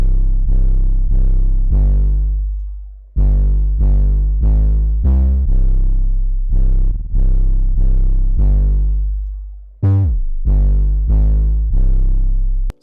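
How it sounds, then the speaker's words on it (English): A wavy 808 bass pattern for a dark beat: deep sustained bass notes in a sparse repeating rhythm of three pitches, each hit decaying slowly, with one quick pitch glide near the end, loud with no voices. "this is the 808 pattern that we ended up making for the beat."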